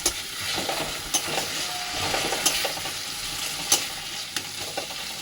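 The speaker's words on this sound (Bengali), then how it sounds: "এবার ভালো করে আবার নাড়িয়ে নেবো" Prawn masala curry (chingri kosha) stirred in a pan over heat, a steady sizzle with close, scattered scraping clicks of the spoon against the metal.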